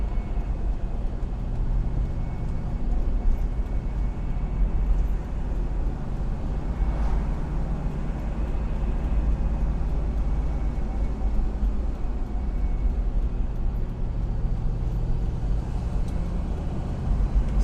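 A 1966 Ford Mustang GT Fastback engine drones steadily in second gear at about 2,000 rpm, a low, continuous rumble from inside the car with road noise and no talk.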